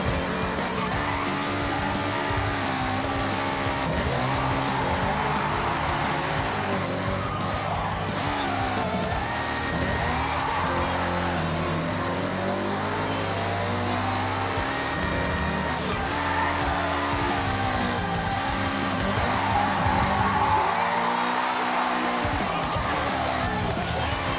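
A car on an uphill touge run in Forza Horizon revs hard and steadily, its engine note rising and falling through gear changes, while tires squeal and skid through the corners. The noise is loud and continuous and nobody speaks over it.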